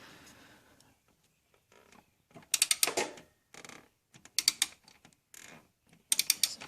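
A socket wrench tightens a valve cover bolt on an AMC 258 engine in short bursts of rapid metallic ratchet clicks, separated by quiet pauses, close and fairly crisp.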